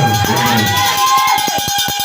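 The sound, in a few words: congregation cheering for the Lord Jesus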